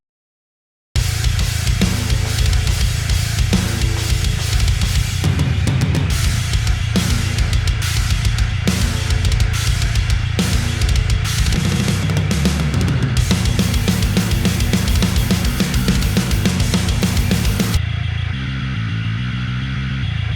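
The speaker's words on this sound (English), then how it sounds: "a pretty kick-ass drums and bass sound" A dense, loud heavy-metal bass and drum mix from an STL Tones Tonality preset pounds steadily, with rapid kick hits and a thick, distorted low end under crashing cymbals, ending in a quieter tail.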